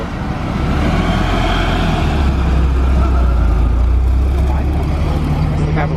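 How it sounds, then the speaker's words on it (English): Car engine idling while warming up at a car meet in Vancouver, a loud steady low rumble continuing throughout with a busy outdoor background. "He's warming up his car, huh?"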